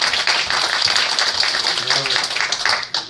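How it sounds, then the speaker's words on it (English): Church congregation clapping hands in praise, a dense wash of applause filling the whole stretch with voices calling out over it. "Give the Lord a hand clap"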